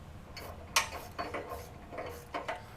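Bolts on a front bumper of a 2020-or-later Ford Transit are tightened with a ratchet, giving a few spaced bursts of close metallic clicking and ratcheting over quiet background.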